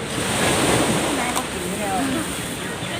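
Steady roar of sea waves washing onto a beach, mixed with gusting wind that buffets the microphone, loud and continuous throughout.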